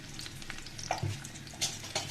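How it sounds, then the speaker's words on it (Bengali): Garlic and onion frying together in hot oil, a brief close sizzle with stirring scrapes and light crackles rising toward the end. "এখানে দিয়ে দিলাম রসুন আর পেঁয়াজ একসাথে দিয়ে দিলাম"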